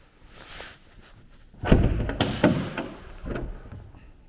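The hood of a 1990 Porsche 944 S2 Cabriolet is opened, giving a few close mechanical clunks and thuds with a brief release rattle in the middle, set against a quiet background.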